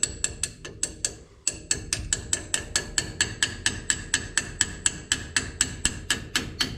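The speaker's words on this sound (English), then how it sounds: "One more time on the hammer." Rhythmic hammer blows ringing on metal during a disc brake swap on a 1950 Ford pickup, about twenty sharp strikes at a steady pace after a brief pause near the start, close and loud.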